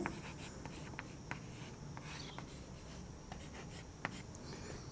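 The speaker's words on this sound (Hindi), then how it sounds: "तो मैं लिख रहा हूं" Chalk scratches and taps across a board as maths is written out, in short irregular strokes close by, over a steady background hiss with no voice.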